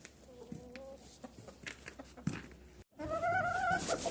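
Hens in a coop cluck softly and intermittently at close range, with a faint rooster-like call and other farmyard noises in the background.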